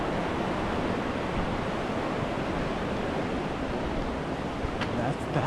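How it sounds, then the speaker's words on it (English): Broadband rushing water of the South San Joaquin River along the John Muir Trail, a steady, full roar near and continuous throughout with no pauses, its level holding even from start to finish. "The South San Joaquin River flowing down to the ocean."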